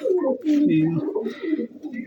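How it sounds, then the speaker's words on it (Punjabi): Several pigeons cooing close by in low, throaty rolling calls, one after another with little pause. "ਹੋਏ ਕਬੂਤਰ ਇਧਰਲੀ ਸਾਈਡ ਸੀਗੇ ਇਧਰਲੀ ਸਾਈਡ ਆ ਗਈਆਂ ਕਬੂਤਰੀਆਂ"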